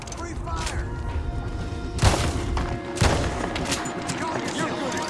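Gunfire in Red Dead Redemption 2: two sharp, loud shots about a second apart stand out over a busy game soundscape, with voices in the background.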